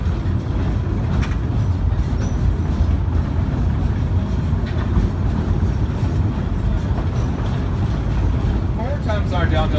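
A Georgetown Loop Railroad narrow gauge train rolls along steadily, a constant loud rumble and clatter of the cars heard from on board, with a voice speaking over the noise.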